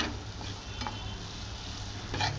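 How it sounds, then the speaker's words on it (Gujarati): Fennel seeds roasting in hot oil as a tempering, a soft continuous sizzle close by with a few faint stirring clicks, no voices. "બસ આપણી વરિયાળી પણ શેકાય છે"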